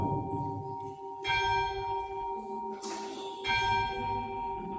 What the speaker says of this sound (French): je suis salué même par la cloche